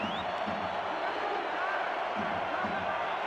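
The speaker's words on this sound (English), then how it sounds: "Crowd getting loud here at Robert Smalls Memorial." Crowd noise at a football game at Robert Smalls Memorial rises into a sustained, moderately loud roar with scattered shouts, heard from a distance over an even background hum.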